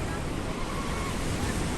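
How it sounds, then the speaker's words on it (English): Small sea waves wash and break on a beach at a seaside resort, a continuous rushing surf blended with wind buffeting the microphone. "You can see the little waves crashing back and forth"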